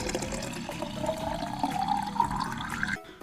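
Tap water runs steadily into a small container, likely a neti pot being filled for a saline nasal rinse, a continuous close splashing flow with a rising fill tone that cuts off just before the end.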